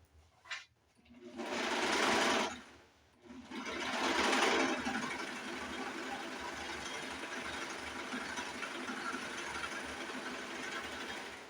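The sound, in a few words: serger sewing down the short end of fabric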